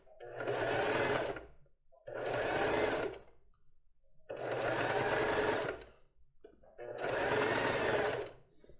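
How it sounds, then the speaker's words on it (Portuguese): Sewing machine stitching a lace bra, four loud, close bursts of fast whirring, each about a second or more, separated by brief quiet gaps. "Então, vou só organizar aqui bem de leve e vou continuar costurando"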